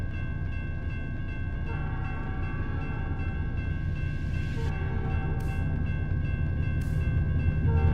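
A train passes in American Truck Simulator, heard as a continuous heavy rolling rumble with sustained horn-like tones sounding over it.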